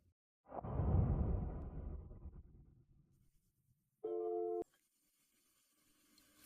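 A telephone call tone sounds once as a short, steady electronic beep after a whooshing rustle, alone and fairly clear.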